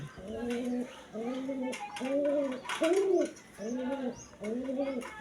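Pigeons coo close by in a steady rhythm of rising-and-falling phrases, about six in a row, with light background noise.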